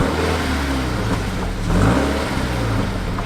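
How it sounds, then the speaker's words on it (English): A Toyota GT86 with an Invidia exhaust revving nearby, a steady mid-pitched engine note that swells briefly in the middle before settling back to idle. "Let's see if we get a before and after rev right here."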